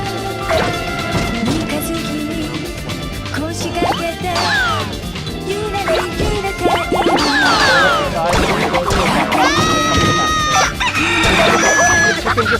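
Rooster crowing and hens clucking from a cartoon-style video played during a university programming lecture, with sudden crashes and bright whistling effects over a steady music bed, all loud and continuous.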